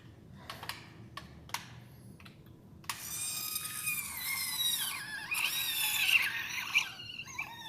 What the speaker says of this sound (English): we're going to turn on that drill